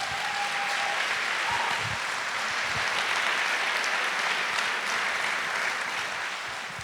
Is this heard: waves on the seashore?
no